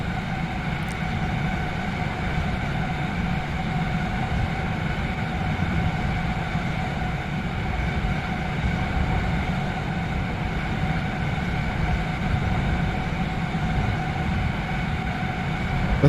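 Rocket engines on a plane in the video game Aviassembly, heard as a steady, loud, continuous roar with a low rumble and a constant drone running through the whole clip.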